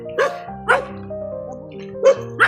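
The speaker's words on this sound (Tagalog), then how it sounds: "Maraming aso pati." Several dogs bark at a house with a tarpaulin roof, giving four sharp yelping barks spread over a couple of seconds, over a faint tonal background.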